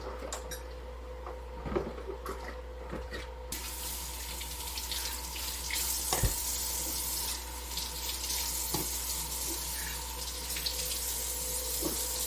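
Tap water runs steadily into a kitchen sink while pantry jars are washed by hand, with occasional clinks of glass under the constant rush of water.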